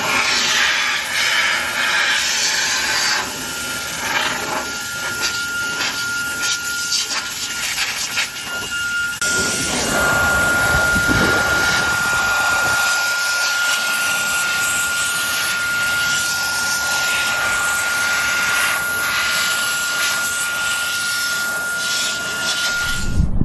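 A Fanttik B8 Ace air duster blower runs on high, giving a continuous airy whoosh with a steady high motor whine that holds for the whole stretch, close and fairly loud, with no talk.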